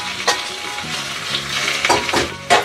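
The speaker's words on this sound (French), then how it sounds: "on entend ça crépite, ça veut dire que c'est chaud" Olive oil crackles and sizzles loudly in a hot pan, a close, continuous frying hiss with sharper pops and brief stirring scrapes, no voices.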